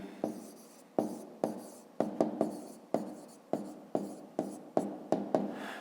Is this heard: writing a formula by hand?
yes